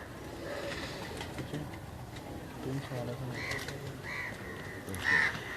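Teddy pigeons in a loft coo and call in short bursts amid other birds, close by, with someone talking over them.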